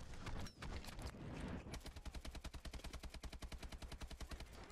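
Rapid automatic gunfire from a first-person shooter, Call of Duty: Advanced Warfare, starting as a chaotic mix of shots and explosions, then settling into a steady, evenly spaced burst of machine gun rounds, loud and close.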